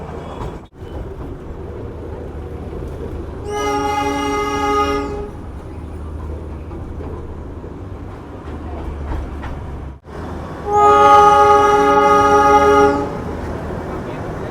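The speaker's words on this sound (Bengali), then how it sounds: "আমরা যেই ট্রেনটা রাইড করছি এটা কিন্তু ডিজেল চালিত" The diesel-powered Darjeeling toy train gives two loud horn blasts, each lasting about a second and a half and spaced well apart, over a continuous low rumble of the moving train.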